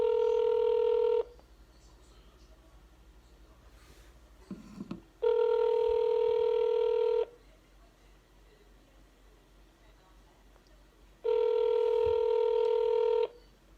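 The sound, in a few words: home telephone being dialed, keypad tones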